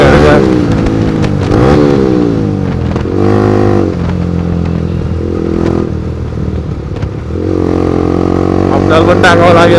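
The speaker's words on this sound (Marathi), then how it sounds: "भयानक साऊंड आहे गाडीचा." Motorcycle engine revving loudly during a Shivaji Jayanti group ride in Jalgaon, the throttle swelling and falling in repeated surges, close and dominant, with people talking over it.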